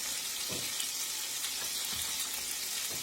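Meatballs fry in a pan with a steady broadband sizzle throughout, faint low knocks recurring every second or so as they shift in the hot fat, with no voices.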